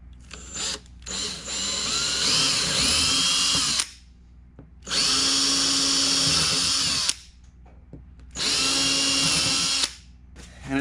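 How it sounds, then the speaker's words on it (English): A power drill whirs loudly three times, drilling through the top layer of carbon fiber on a Camaro aero part, each run lasting a few seconds with short quiet pauses between, close by. "We're only going to drill"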